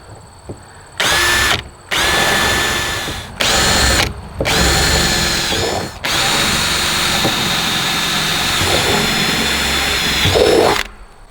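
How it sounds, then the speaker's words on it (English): A cordless power drill whirs loudly in short repeated bursts, then runs continuously for several seconds, grinding through a plastic barrel with a steady high whine. "So let's drill a corner."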